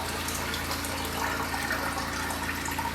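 Water poured into a plastic cup aquarium for a crawfish, a steady, even splashing gush filling the whole span without pause, close and fairly loud.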